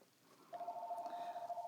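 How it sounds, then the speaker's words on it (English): A telephone rings indoors with a steady, sustained electronic tone that starts suddenly and holds, fairly faint against a quiet room. "we'll listen to the phone ring"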